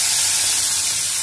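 Cumin seeds and moong dal hitting hot oil in a pan, a loud, steady hissing sizzle close up with no talk.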